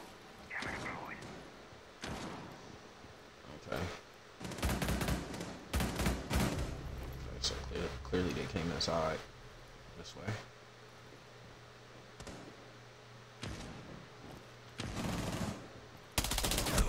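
Gunfire in an online shooter video game: bursts of rapid shots and single cracks scattered throughout, some loud and close, others distant, under a player's speech and a steady background hiss.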